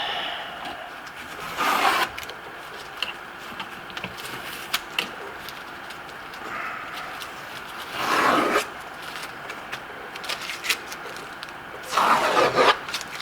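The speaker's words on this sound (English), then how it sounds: "Pulls the tape." Masking tape peeled off a faux-painted Rossa breccia marble surface, three separate broad tearing rasps spaced several seconds apart, close and moderately loud over a quiet room.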